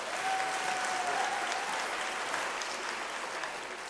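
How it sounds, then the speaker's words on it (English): An audience at a university graduation ceremony breaks into sustained applause, a dense, even roar of clapping holding steady for several seconds, heard alone at moderate distance. "I think she deserves a round of applause."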